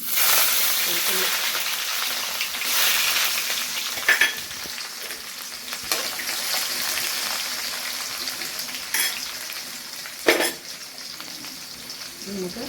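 Chopped garlic and fenugreek fry in hot oil for fish pickle, a steady loud hiss and sizzle throughout with occasional stirring scrapes and knocks against the pan, and a voice talks over it at times.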